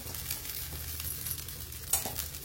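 Sabudana khichdi with fried chips being mixed in a pan, a quiet sizzle under soft scraping stirs and one sharper clink of the spoon near the end, close and fairly faint, no talking.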